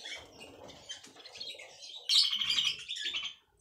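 A pet canary-type bird chirps in its cage at night, a run of close twittering calls that grows louder and busier near the end before stopping, with faint rustling and no talk.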